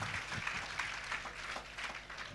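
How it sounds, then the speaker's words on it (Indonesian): A congregation applauds at a fasting prayer service, a dense, steady patter of many hands that holds at a fairly quiet level for a couple of seconds with no one speaking. "Tepuk tangan panjang bagi Tuhan"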